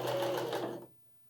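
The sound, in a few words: sewing machine stitching a backstitch on a dress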